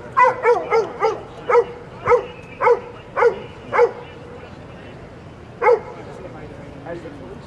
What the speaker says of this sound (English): Dogs have marched up and down, checking the parked vehicles here on 58th Street